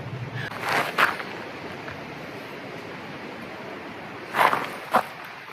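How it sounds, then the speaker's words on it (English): Wind blows steadily across a Vancouver Island wild campsite, a constant rushing bed broken by a few louder gusts buffeting the microphone near the start and again toward the end. "because it's been windy all day."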